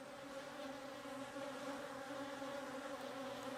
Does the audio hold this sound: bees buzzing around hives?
yes